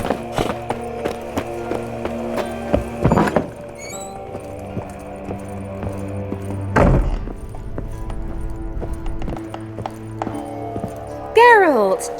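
Geralt's horse Roach gallops in The Witcher 3: Wild Hunt, with steady, close, rhythmic hoofbeats running throughout over game music, a sharp thud midway and a brief whinny near the end.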